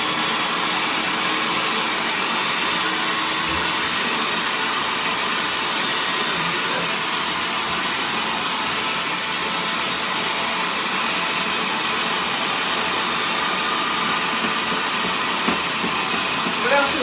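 A grain mill grinding wheat berries into flour gives a loud, continuous, even whirring roar with a hissing edge that holds steady throughout.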